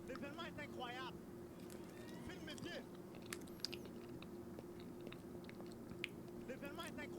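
A small brown banana is eaten, with soft chewing and mouth sounds heard close up under a low steady background hum, with brief talk at the start and end.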